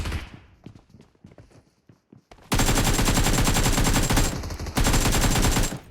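Rapid automatic gunfire in a multiplayer shooter video game, loud dense bursts that start after a few scattered shots and continue almost nonstop, with a short gap before resuming.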